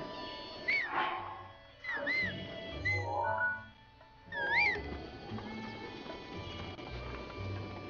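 Horse hooves clop in a Nintendo Switch video game as the horse approaches, with a few bright whistle-like chirps and game sounds scattered over steady ambient noise, no talk.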